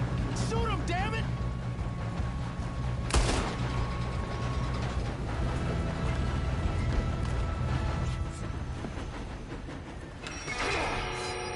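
Gunfire in Red Dead Redemption 2 during a train fight, with sharp shots and bursts over constant rumbling and game noise, while characters shout and talk throughout.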